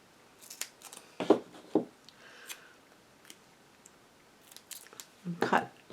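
Scissors snipping a small piece of material for a blinged-up handmade Christmas card, a few short crisp cuts in quick clusters, close and fairly quiet with soft handling noises between them.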